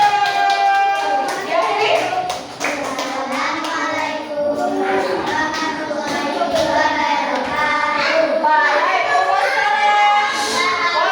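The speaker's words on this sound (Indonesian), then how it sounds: "Tepuk tangan untuk norma kesopanan Pak Biru" Schoolchildren in a classroom applaud together in a steady burst of dense clapping that carries on throughout, with a few children's voices and brief speech mixed in.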